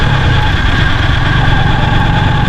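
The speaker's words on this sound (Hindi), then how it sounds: "बारिश में मोटरसाइकिल चलती है ना, चर चर चर चर की आवाज़ें आ रही होंगी शायद आपको।" A motorcycle ridden through rain in Karachi gives a steady, loud, close engine drone with constant noise, and a faint rattle from the speedometer gear may sit within it.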